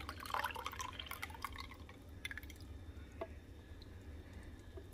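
Canned pineapple in its natural juice is poured into a slow cooker, giving faint wet dripping, splashing and squishing sounds that are loudest at the start and then taper to scattered drips.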